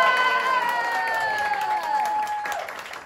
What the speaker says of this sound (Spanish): Aplauso por la número 2.